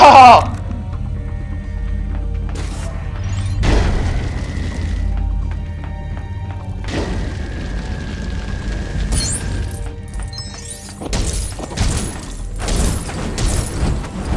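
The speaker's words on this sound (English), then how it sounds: "Possible laboratory break-in confirmed by big explosion." A big explosion at a laboratory in the Lego Marvel Super Heroes video game sounds as a loud opening blast, followed by several more booming, crashing bursts and clattering debris spread across the stretch.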